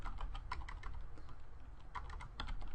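Quiet keystrokes patter on a computer keyboard as a class name is typed into a coding program, an uneven run of light clicks close by with no talk.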